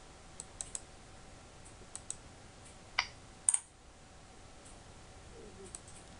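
Sparse keystrokes tap on a computer keyboard while entering C++ code: scattered light clicks with a couple of louder key presses mid-way, close and dry over a faint hum.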